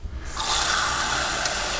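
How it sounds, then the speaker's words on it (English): Two cups of water pour into an Instant Pot pressure cooker fitted with a rack on the bottom, a steady close splashing gush that starts after a brief quiet moment and runs on evenly. "I'm gonna put 2 cups of water in."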